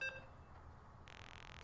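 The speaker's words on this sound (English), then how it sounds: "You can hear the countdown. Beep, beep." Countdown beeps in a video game as players load into a match: a few short, bright tonal beeps at the start, then fading under a steady electronic background hiss, no talk.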